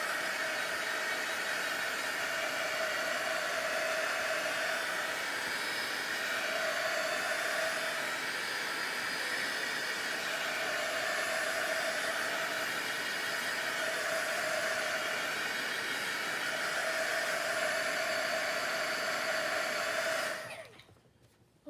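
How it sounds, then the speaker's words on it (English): Heat tool blowing hot air onto a junk journal page, a loud continuous whirring hiss held steady for about twenty seconds before cutting off, close up with no talking. "I'm going to hit that with a heat tool just a little bit."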